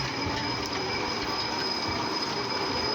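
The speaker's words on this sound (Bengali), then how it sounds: "এখানে একটা ট্রেন" A small ride train runs at a children's park in Sylhet, giving a steady close rumble with a high whine and faint rattling, and no voices.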